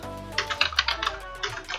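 Someone types an email address on an Android phone's on-screen keyboard, a quick run of close, light taps following a brief pause, each tap crisp and distinct.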